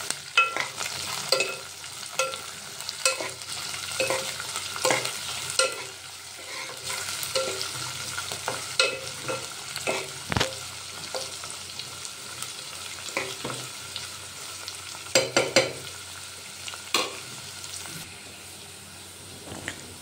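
A spoon scrapes and stirs through upma with fried peanuts in a hot pan, giving repeated close scraping strokes over a soft continuous sizzle.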